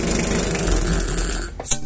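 A 4DR7 diesel engine runs steadily at idle with an even, busy mechanical clatter, close and fairly loud, with a brief sharper click near the end.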